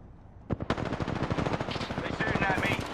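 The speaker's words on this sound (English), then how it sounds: "They're shooting at me." Rapid automatic gunfire from the video game Apex Legends crackles in dense bursts for a few seconds, loud and close, with the shots coming in quick succession.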